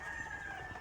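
Faint chicken sounds from a backyard coop behind a house, with soft clucking over a low background hum.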